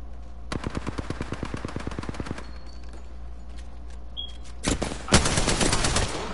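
Rapid automatic gunfire in a PS4 shooter, a fast rattling burst of closely spaced shots lasting about two seconds, then a pause, followed by another loud, dense volley of firing.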